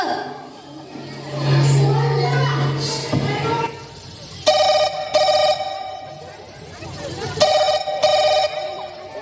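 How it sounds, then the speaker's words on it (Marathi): A telephone rings in two pairs of short, bright double bursts, loud and close, following a stretch of murmuring room noise and voices. "फोनच लावा लागेल आता"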